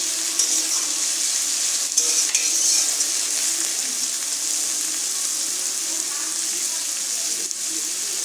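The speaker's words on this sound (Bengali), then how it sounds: "আমি ভাজা ভাজা করে নেব" Lentil dumplings frying in a pan: steady, close sizzling, a continuous bright crackle with occasional stirring scrapes and no talking.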